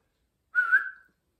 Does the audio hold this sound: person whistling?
yes